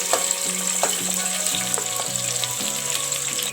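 Onions sizzle in hot oil while cooking mushroom biryani, a loud, even frying hiss with occasional pops and utensil scrapes.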